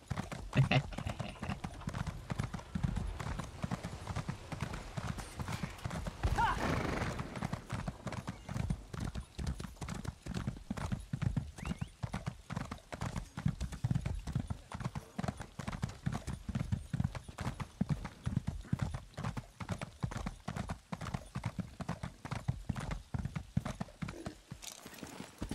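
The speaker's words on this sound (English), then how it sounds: "Jump over the horse!" Horses in a fantasy online role-playing game clip-clop in a steady, rapid rhythm throughout, with an occasional whinny, running under ongoing game sounds and voices.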